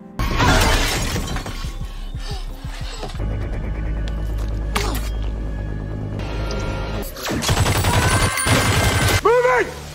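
Gunfire in a film scene comes as sharp shots and rapid bursts mixed with shattering glass. There is a quieter, tense stretch in the middle, then the shooting and breaking return loudly, with a voice speaking briefly.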